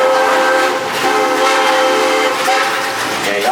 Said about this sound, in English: give us a couple more toots on that whistle if they did a real good job